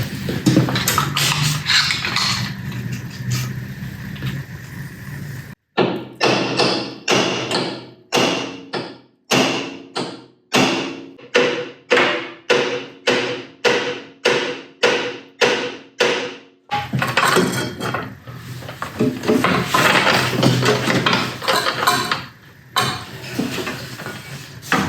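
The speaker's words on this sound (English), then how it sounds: "I'll probably try and whack it with a hammer first and see if that pin comes out." A hammer strikes a stuck pin on a Ditch Witch, about a dozen loud sharp metallic blows in a steady rhythm, set between stretches of noisy background.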